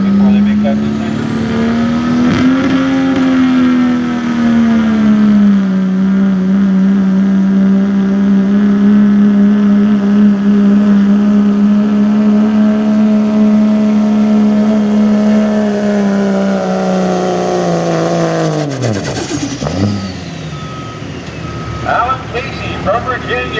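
A diesel 4x4 street truck drags a sled at a truck pulling event, its engine holding a loud sustained roar that climbs, then drops off sharply near the end before revving again.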